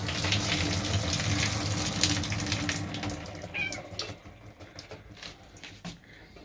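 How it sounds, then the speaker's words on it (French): Mushrooms drained under running water in a home kitchen, a steady loud hiss of pouring water that thins out and becomes patchier toward the end, with small clinks. "Maintenant, on va égoutter les champignons."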